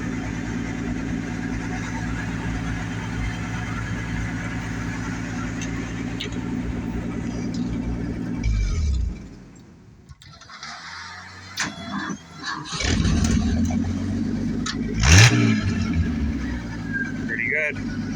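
A 1955 Bombardier wide gauge engine idles steadily and close by, then cuts out briefly before restarting with clanks and a rising whine, while people talk nearby.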